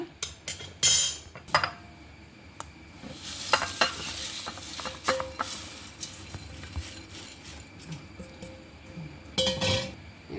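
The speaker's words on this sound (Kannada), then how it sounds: "ಇದೇ ಬಾಣಲಿಗೆ ಮೆಣಸು ಹುರ್ಕೊತಾ ಇದ್ದೆ." Dry chillies tossed and stirred in an oil-free pan for chutney powder, with a soft crackle, scraping stirs and occasional metallic clinks of the spoon against the pan, bursts spaced irregularly.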